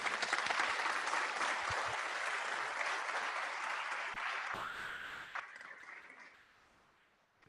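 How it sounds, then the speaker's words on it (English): Audience applause for Kim, a guest speaker at an inclusion talk, a steady wash of clapping that holds for several seconds and then tapers away, fairly distant and soft. "Everybody give Kim a round of applause."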